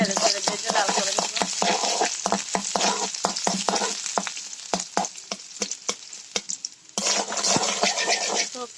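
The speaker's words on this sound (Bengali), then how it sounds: "পেঁয়াজ কুচিগুলা দিয়ে একটু নেড়ে চেড়ে ভেজে লাল করে দিব।" Chopped onions frying in oil in a pan while being stirred, a continuous close sizzle broken by frequent sharp clinks and scrapes of the utensil against the pan.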